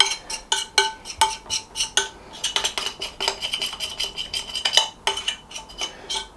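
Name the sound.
scraping hot cross bun dough out of bowl with spoon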